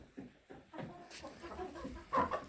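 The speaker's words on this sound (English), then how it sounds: "the chickens get to eat it today." Backyard chickens cluck in short close bursts while pecking at smelt roe, with soft scattered clucks building to a louder cluster near the end.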